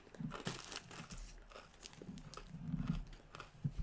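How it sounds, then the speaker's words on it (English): Someone bites and chews a fortune cookie up close, with a series of dry crunches and crackles in an uneven rhythm and no talking. "I'm not going to tell you what it says until I'm done chewing the cookie."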